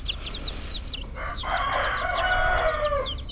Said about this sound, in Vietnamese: chỗ con gà đang ăn nè thôi đất ơi mấy con gà này nó gà tơ á